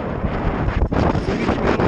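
Wind buffeting the microphone on a sailboat under light breeze, a continuous broadband roar with one brief dip midway, loud and close, no voices.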